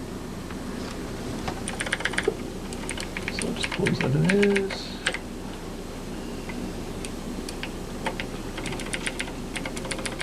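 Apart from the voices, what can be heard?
keyboard clicking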